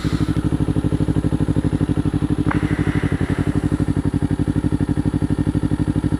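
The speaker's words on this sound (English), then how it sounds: "Oh, love that exhaust." Motorcycle engine idling loudly and close by, a steady rapid exhaust pulse thumping evenly throughout with one brief clatter midway.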